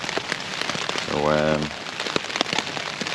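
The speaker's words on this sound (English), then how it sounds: "here comes the rain again" Rain patters steadily on a surface at a camp along Scotland's West Highland Way trail, a dense close crackle of drops throughout, with someone briefly speaking over it.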